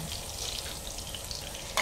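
Eggplant frying in oil gives a soft, continuous sizzle and crackle close up, with a faint clink near the end.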